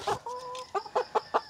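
A Dominant CZ pullet clucks in a short series of sharp, close bursts, about five calls with brief pauses between them.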